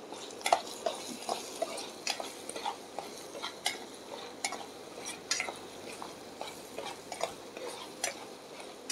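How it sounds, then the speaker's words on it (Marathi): Turmeric, garam masala and salt being stirred in a pan, faint soft sizzling with repeated light scraping and clicking of a spoon, close and quiet. "तर आपण हा परतून घेऊया"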